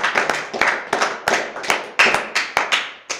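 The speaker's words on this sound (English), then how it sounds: "Give another round of applause for John." A small audience claps for John with a dozen or so sharp, distinct handclaps in a loose, uneven rhythm, close and fairly loud.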